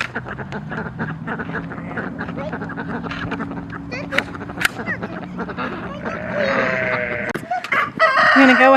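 Chickens cluck and crow nearby amid steady background noise and some talking, with a louder burst of calls near the end.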